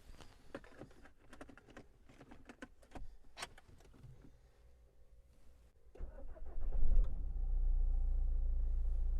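A Renault Clio with a salvaged category N history starts up after clicks and handling noises, its engine catching around six seconds in and settling into a steady, fairly loud idle-to-pull-away rumble.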